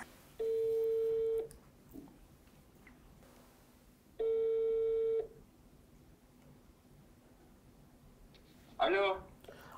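Telephone ringback tones on an outgoing call, two long steady beeps about four seconds apart over a quiet line, followed by a voice answering at the end.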